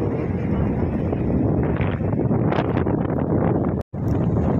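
Strong wind at the coast of Innes National Park buffets the microphone in a continuous loud roar, with low rumbling gusts and a brief dropout near the end.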